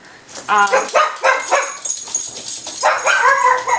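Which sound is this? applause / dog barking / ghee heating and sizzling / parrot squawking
dog barking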